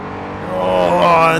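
A race car engine in a racing video game revs upward in a short, loud burst, its harmonic whine rising in pitch as the throttle opens.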